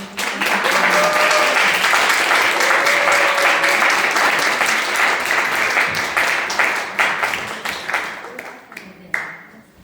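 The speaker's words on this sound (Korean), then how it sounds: "우리 박수로 환영해 주시면 좋겠습니다" A church congregation gives dense, continuous applause to welcome a woman coming up to share her testimony. The clapping is loud and steady, then thins out and fades, ending with a few last scattered claps.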